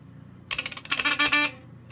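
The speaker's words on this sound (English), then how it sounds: "It's got that buzzer sound effect." Smoke alarm buzzer on a General Electric 8201-301 unit, a run of harsh, rapidly pulsing buzzy chirps lasting about a second, loud and close, then silence.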